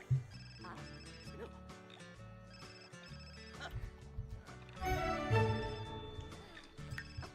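A telephone bell rings repeatedly in a life-simulation video game, steady trilling bursts over game music, with a person talking over it.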